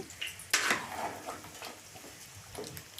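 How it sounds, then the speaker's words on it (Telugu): Chicken curry, village-style bagara, being stirred in a cooking pot: a sharp metal clank of spoon on pot followed by softer scraping and faint sizzling, close but fairly quiet, no speech. "మంచిగా కలబెట్టుకోవాలి కింద మాడిపోతుంది లోపల నుంచి కలబెట్టాలండి"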